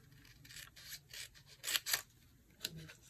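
Papercraft card is cut down on a paper trimmer: a series of soft, quiet scraping and slicing strokes, close by and heard alone, with no talking.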